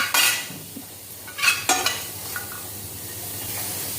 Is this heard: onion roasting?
yes